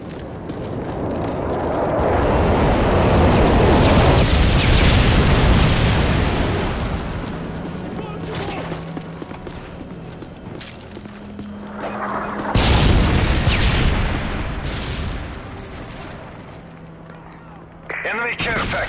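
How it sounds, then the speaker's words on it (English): Bombing run in Call of Duty: Modern Warfare 3, with heavy booming explosions that swell into a long roaring rumble, ease off, then hit again with a second loud blast, all under radio-style voices. "Nighthawk, you are cleared for bomb run on grid."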